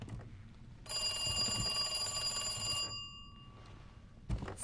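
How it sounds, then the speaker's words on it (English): An old-style telephone rings in Resident Evil 2 Remake, a steady electric bell trill running for about two seconds at moderate loudness, then stopping, with a faint thump near the end. "Phone."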